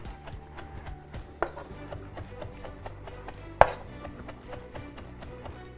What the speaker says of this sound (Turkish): Şimdi chop ediyorum.